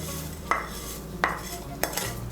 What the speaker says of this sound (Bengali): সেমাইগুলোকে ভালো করে মিশিয়ে নেব দুধের সঙ্গে।